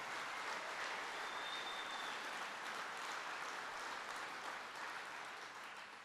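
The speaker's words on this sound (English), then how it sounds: "And even Terry's clapping about that one" An audience at a presidential event on agricultural innovation claps steadily, a dense, sustained round of applause that fades slightly near the end.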